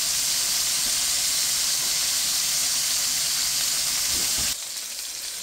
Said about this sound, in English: Got my nice sear going.